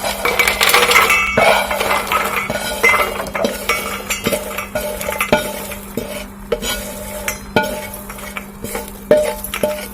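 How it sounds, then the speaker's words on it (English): Roasted peanuts, coated with garlic and salt, tumble into a bowl with repeated sharp clinks and scraping of a utensil against the dish, close and clear, in irregular bursts without talk. "I'm going to go ahead and again transfer them to this bowl here so they can cool."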